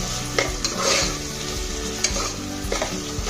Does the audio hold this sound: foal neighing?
no